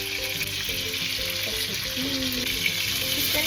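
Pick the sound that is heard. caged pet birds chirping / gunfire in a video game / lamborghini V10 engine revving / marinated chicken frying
marinated chicken frying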